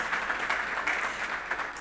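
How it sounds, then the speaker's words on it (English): Fairly faint, continuous applause from a conference audience at a sustainable finance panel discussion as a panelist joins the stage, an even wash of clapping without a clear start or end. "A round of applause for him as he joins us."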